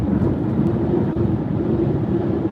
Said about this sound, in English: Does anyone hear that wind?